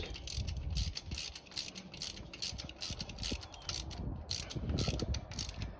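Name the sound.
ratchet tightening bolts into an aluminum engine block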